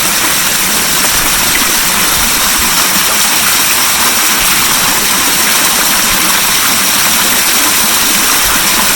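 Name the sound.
Speck Badu variable speed pool pump running at 1900 RPM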